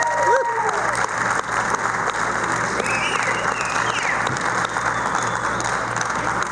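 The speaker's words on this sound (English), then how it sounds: "Give those guys a nice round of applause." A crowd at the Owen Sound Salmon Spectacular 2022 awards ceremony applauds the fish cleaners with a loud, sustained wash of clapping and a few cheers, steady throughout with faint voices mixed in.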